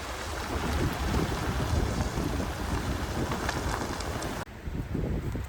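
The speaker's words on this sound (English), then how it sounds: "Ooh, windy." Steady wind buffets the microphone with a loud, low rumbling roar throughout, briefly dropping out near the end before gusting back in.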